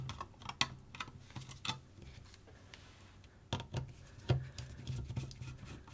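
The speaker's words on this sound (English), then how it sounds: "So next we've got these 4 screws that you're going to have to remove." Small screws being taken out of a SkyRC Q200neo charger by hand: sparse, quiet clicks and light taps up close, spaced irregularly across the stretch with brief louder knocks, no talking.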